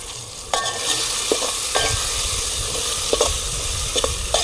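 Salt being stirred into ridge gourd curry frying in a pan, a steady loud sizzle with a spoon scraping and clinking against the pan several times, no talking.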